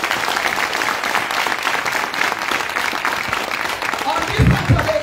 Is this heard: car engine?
no